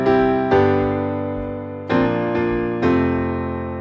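Piano chords struck in a syncopated rhythm, four sustained attacks ringing and decaying one after another, clear and close with no voices.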